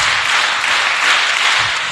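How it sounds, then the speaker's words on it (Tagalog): A crowd of teens at a vacation Bible school gathering claps together, a loud, dense burst of steady applause that fills the whole two seconds without a break. "isang palakpak, dalawang palakpak, tatlong palakpak"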